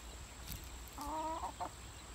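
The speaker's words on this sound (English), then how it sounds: "She's cluck, cluck, clucking like she's got hens in tow" A hen gives a few short, soft clucks in a quick burst, faint and fairly close against a quiet background.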